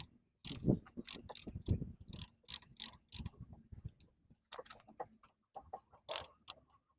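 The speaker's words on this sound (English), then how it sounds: "I'm going to compress the piston back in with my tool" A hand tool pushes the brake caliper piston back into its bore on a Mazda 3 during a front brake pad replacement. It gives a string of sharp, close mechanical clicks and ratcheting taps in uneven bursts, with short pauses between them.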